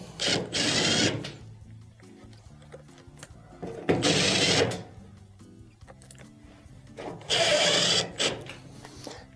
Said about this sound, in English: let's go ahead and reinstall the 3 screws